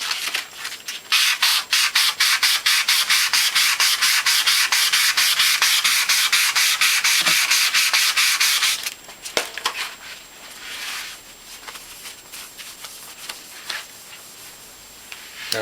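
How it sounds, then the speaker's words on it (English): Rapid, steady abrasive rubbing of sanding on a corner of a stainless steel Norwalk juicer top, loud and continuous for about nine seconds, then stopping into quieter scattered handling noises. "It looks to me like it needs some extra sanding in this corner"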